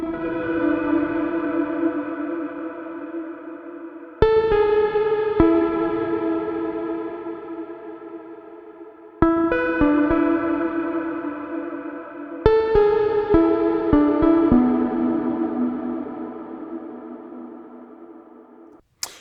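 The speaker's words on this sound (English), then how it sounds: "we should find this is reverb by itself" Sustained synth-like chords struck four times, each ringing out with a long reverberant wash and echoing decay, no voices.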